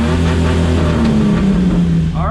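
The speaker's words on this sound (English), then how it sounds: "So let's test rev limiter and neutral." A car engine in neutral revs hard against a 5,000 rpm rev limiter, giving a loud sustained droning tone that holds steady and close, with a voice speaking over it.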